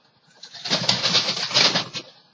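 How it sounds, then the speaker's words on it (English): Several birds chirp and twitter in a busy, overlapping chorus nearby, rising and falling over a couple of seconds, with no talking. "excuse my birds"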